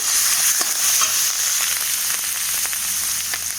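Onion and garlic fry in a pan for a Bengali crab curry, giving a close, loud, continuous sizzle with scattered crackles and faint stirring scrapes, with no talk.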